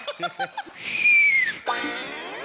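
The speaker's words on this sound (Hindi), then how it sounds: "मेरी तरफ देख के सीटी मारी तूने" Someone on a comedy stage show lets out a loud rising-then-falling whistle aimed at another person, following a few short vocal bursts and giving way to a lingering ringing tail.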